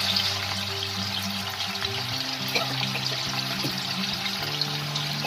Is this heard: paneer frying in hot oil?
yes